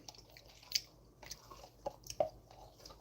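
Close, slow chewing of slow-cooked beef marrow remnants, with a few soft wet bites and crunches spaced irregularly over a few seconds, fairly quiet with no talking.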